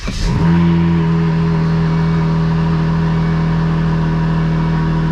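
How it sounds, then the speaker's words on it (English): A Volvo P3 car with the 3.0L T6 engine cranks and catches, then settles into a loud, steady idle with a strong low drone close by, no talking. "let's start this car up and see if it works"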